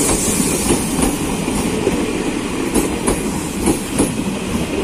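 An ex-Tokyo 8518 series KRL commuter train passes close by with a loud continuous rumble of wheels on rails and regular clickety-clack beats over the joints, no voices on top.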